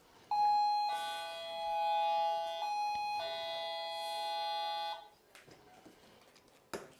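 A doorbell chimes loudly with a sustained electronic tone, ringing two long notes, then fading into faint household noise and a sharp knock at the end.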